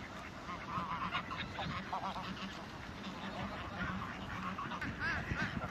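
A flock of ducks quacks and honks continuously at a moderate distance, calls overlapping in a busy outdoor chorus with faint voices in the background.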